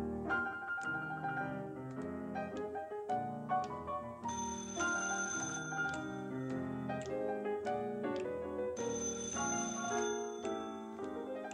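Telephone ring cues punctuate a band-backed stage song number, with bright ringing bursts sounding twice over the continuous music.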